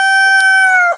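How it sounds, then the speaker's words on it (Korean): A rooster crows a single loud, close cock-a-doodle-doo, one sustained ringing call held steady and then cut off sharply just before the end. "수탉이 목청껏 크게 우는 꼬끼요."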